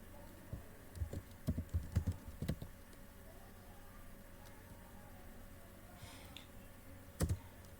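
Computer keyboard typing in small clustered bursts of crisp clicks, close and moderately quiet, with pauses between the bursts and a final short flurry near the end; no one speaks.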